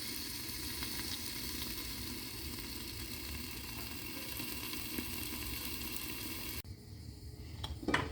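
A cheesy breakfast dish fries in a covered pan, where the cheese has started to melt. It gives a continuous close crackling sizzle that drops suddenly near the end, followed by a few clinks.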